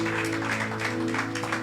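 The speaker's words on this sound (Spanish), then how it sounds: "Démosle un aplauso al Señor y démosle un aplauso a estos niños del Señor." A congregation at a church service applauds the children, steady clapping held over sustained tones, with no talk.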